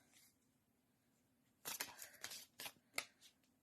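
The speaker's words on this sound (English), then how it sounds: "Shuffle some cards." A quiet room, then a few quick papery riffles and flicks of tarot cards being shuffled, close by with no talking.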